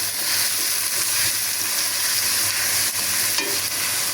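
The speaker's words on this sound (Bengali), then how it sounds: "এখন একটু হাফ সেদ্ধ করে নিচ্ছি।" Cauliflower, papaya and carrot are half-boiled and stirred in a pot, giving a steady close hiss and bubbling with occasional stirring scrapes and no voices.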